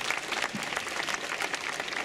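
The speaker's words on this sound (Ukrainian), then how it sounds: "давайте оплесками підтримаємо його дружину і його доню" Audience clapping steadily at the opening of an embroidered-shirt mega-march in Kyiv, a dense, even round of applause that fills the whole moment without pause.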